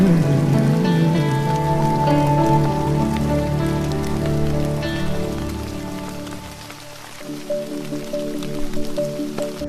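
Heavy rain falling in Qatar, a dense, steady patter and drip on hard surfaces close by, continuous with a low background hum that drops away partway through.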